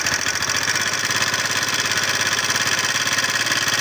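A kick-started motorcycle engine with no oil reaching the cylinder head runs steadily and close by, with a dense, rapid mechanical clatter and knock over a continuous rumble, no voices.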